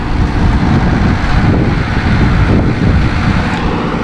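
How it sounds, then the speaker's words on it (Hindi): Large tractor working a former rice field being prepared for potato sowing, a loud, steady low engine rumble mixed with wind noise, continuous and close. "ट्रैक्टर आया है।"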